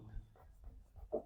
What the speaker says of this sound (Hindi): तो हम लोग लिखेंगे